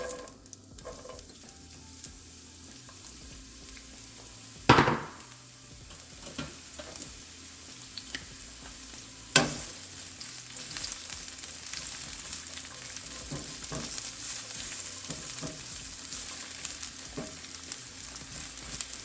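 Chopped onion sizzles steadily in a mix of olive and avocado oil in a pan for a vegetable stir fry, a constant close crackle with a couple of sharp clanks and stirring scrapes.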